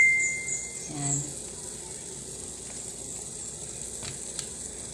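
A pot of Ilokano vegetable soup with smoked fish comes to a boil, a soft steady bubbling and simmer with a brief clink of a utensil against the pot near the start.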